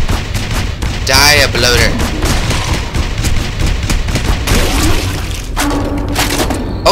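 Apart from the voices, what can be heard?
heavy gun firing in video game SAS Zombie Assault 4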